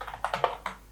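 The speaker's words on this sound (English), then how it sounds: "here we will type our email" Several quick, close keystrokes on a computer keyboard as an email address is typed, crisp taps in an irregular rhythm with no talking.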